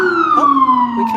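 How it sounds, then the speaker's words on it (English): A New York City ambulance siren wails loud and close on a street, its falling tone sweeping steadily downward through the brief moment. "Oh, that was an ambulance."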